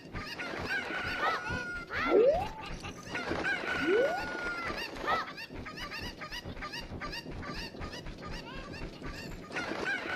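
Chickens cluck and squawk in Ocarina of Time, with repeated sharp game-style fowl calls and rising squeals over a steady busy backdrop, loud and close, with no talking.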